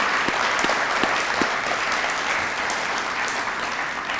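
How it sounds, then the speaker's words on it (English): An audience at a city State of the City address applauds public safety officials, a dense, steady clapping that holds at an even level across the whole stretch. "can we just give an applause to all of our public safety officials?"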